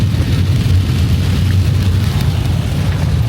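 Steady rain drumming on a car roof while driving the Dalton Highway, a dense continuous patter over a low rumble, with no voices.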